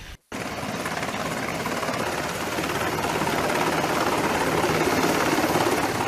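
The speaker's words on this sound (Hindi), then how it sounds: "दुनिया का सबसे उन्नत, अत्याधुनिक और सक्षम समुद्री helicopter MH-60 RC Hawk helicopter" An MH-60R Seahawk naval helicopter's rotor chop and turbine roar fill the scene loudly and continuously after a brief cut at the start.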